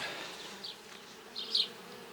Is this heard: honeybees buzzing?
yes